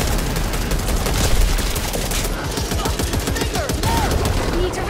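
RPK machine gun fire in Back 4 Blood, sustained rapid automatic bursts rattling loudly across the whole stretch, close and dense, with scattered game effects layered underneath.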